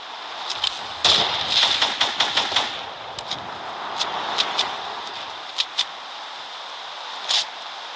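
Video game gunfire crackles in short, sharp bursts, some single shots and some quick volleys, over a constant background hiss.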